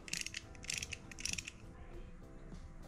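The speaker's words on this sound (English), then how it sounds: "my new tool for the brake calipers. It's for retract the pistons and the calipers" Brake caliper piston retraction tool being worked on a motorcycle: quiet ratcheting clicks in three short bursts, with faint mechanical creaks between them, close and alone.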